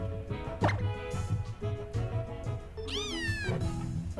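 A pet cat meows once in a clear, rising-and-falling call near the end, over a steady background of electronic music and hum indoors.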